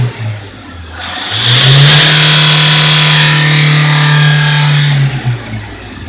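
A Toyota Fortuner engine is held at a loud, steady high rev for several seconds with a strong sustained drone. The revs then drop back to a rough idle. It is close by and there is no talking during the rev.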